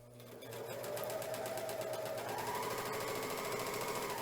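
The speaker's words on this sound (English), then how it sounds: "And then I'm going to start stitching." A Janome Magnolia 7034D serger stitches and trims fabric, starting up and settling into a fast, steady mechanical hum with rapid rhythmic chatter, close and continuous.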